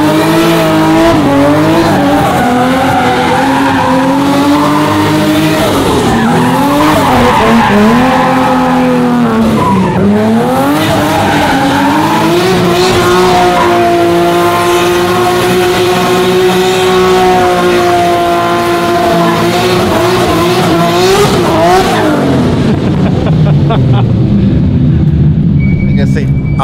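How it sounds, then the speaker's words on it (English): Hoonigan car revving hard with tires squealing and skidding in Los Angeles, a loud sustained engine wail rising and falling in pitch over long squeal, with people talking underneath. "Das ist einfach einer der bestklingendsten Motoren, die es einfach gibt."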